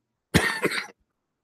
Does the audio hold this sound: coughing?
yes